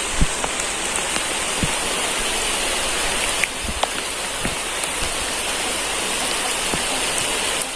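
Steady rain pours down on a surface in a dense, even hiss, with a few louder drops and patters standing out now and then.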